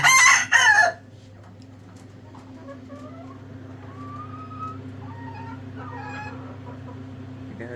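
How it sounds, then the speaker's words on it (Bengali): A farm rooster crows loudly and close for about a second, then falls quiet while softer chirps and clucks continue over a steady low hum. "আমার সুন্দরী একটা মোরগ খুবই সুন্দর খুবই দুষ্ট"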